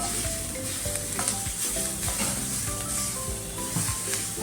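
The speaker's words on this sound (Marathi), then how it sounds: "कोथिंबीर टाकूया आता फोडणीमध्ये. परतून घेऊया." Fresh coriander stir-fried in hot oil tempering for a chana dal besan dish, a loud close sizzle with repeated scraping strokes of a spatula against the pan, alone without talk.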